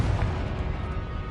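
A Confringo explosive spell goes off in the Hogwarts Legacy video game on PS5, a dense low rumbling blast that fills the moment and holds steady at high volume without a clear break.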